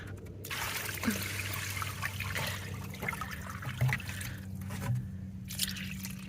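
Wash water from a homemade laundry detergent test dumped out, giving a soft dripping and trickling splash with a few brief spatters over a steady low background hum, fairly quiet and without talk.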